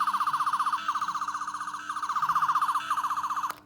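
A toy sonic screwdriver from a 50th anniversary Doctor Who collection plays its Third Doctor effect, a rapidly warbling electronic whine in repeated bursts, close and fairly quiet, ending with a click.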